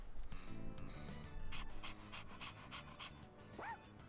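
Koromaru, the dog in the Persona 3 video game, pants in quick rhythmic breaths against game music, ending with a short rising whimper.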